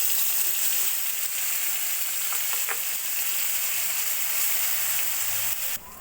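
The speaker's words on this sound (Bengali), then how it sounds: "এবার কড়াইতে আরেকটু তেল দিয়ে বেটে রাখা মশলাটা আমি দিয়ে দেব" Ground spice paste fries in oil in a wok with a loud, continuous bright sizzle, a few faint utensil clicks near the middle, and the hiss dropping off at the very end.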